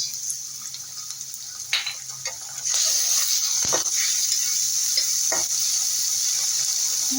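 Turmeric and ginger-garlic paste with green chillies sizzle in a frying pan. The crackle jumps louder partway through, broken by a few scraping stirs and taps of a utensil.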